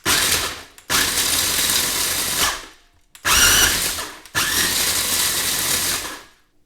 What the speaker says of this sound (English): Go ahead and put them in a blender here, a food processor, and just pulse it a few times.